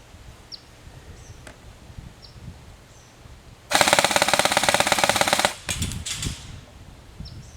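Airsoft M2H .50 cal replica machine gun with a version 7 gearbox firing one sustained burst of rapid mechanical shots, loud and close, followed by a shorter stuttering burst amid quiet outdoor ambience.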